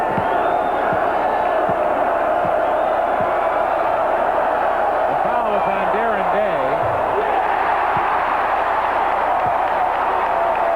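A packed basketball arena crowd roars in a continuous loud wash during a 1981 college game between the Oregon State Beavers and the UCLA Bruins, with faint ball bounces and a commentator talking over the din.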